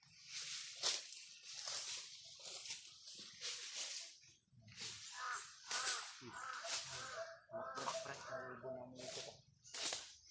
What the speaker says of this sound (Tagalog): May uwak na naman na tumutunog.